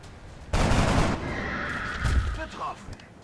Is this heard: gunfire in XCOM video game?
yes